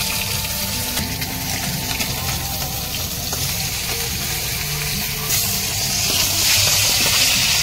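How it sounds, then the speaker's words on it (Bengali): Fish rubbed with salt and turmeric frying in hot oil, a steady loud sizzle and hiss close by that swells brighter toward the end, with no talking. "এবার মা তেল দিয়ে দিয়েছে, দিয়ে এবার মাছটা ভেজে নিচ্ছে, নুন হলুদ মাখিয়ে দিয়ে মাছটা ভেজে নিচ্ছে।"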